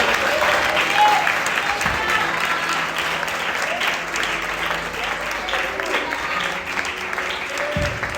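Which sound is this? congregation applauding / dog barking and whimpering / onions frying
congregation applauding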